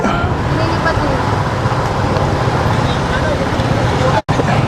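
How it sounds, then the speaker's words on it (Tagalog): Steady, dense roar of road traffic with engines idling and rumbling close by, a continuous wash of vehicle noise with a brief dropout near the end. "Buhol ng traffic."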